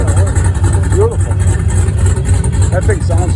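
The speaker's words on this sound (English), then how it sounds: "MV Agusta. That's what that is. Very cool motorcycle." An MV Agusta motorcycle at an outdoor car show in Fond du Lac, Wisconsin, its engine rumbling steadily and close with a deep, continuous drone while people talk over it.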